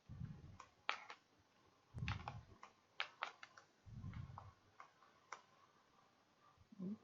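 Number keys tapped on a computer keyboard while running a C insertion sort program, a sparse series of faint, close clicks in uneven rhythm, with soft low thumps between them.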